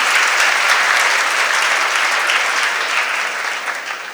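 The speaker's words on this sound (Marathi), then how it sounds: "सगळ्यांनी टाळ्या वाजवायला पाहिजेत." An audience claps steadily and loudly at a children's yoga book launch and panel discussion in Pune, the applause dense and continuous throughout and tapering slightly near the end.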